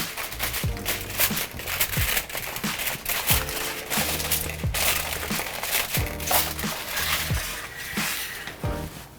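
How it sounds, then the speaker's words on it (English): Aluminium foil being pulled and crinkled over a small sheet pan fitted with a rack, with repeated close, loud crackling bursts coming in uneven bunches, no talk. "I'm gonna cover the sheet pan with foil"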